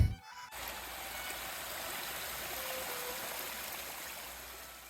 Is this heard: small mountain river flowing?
yes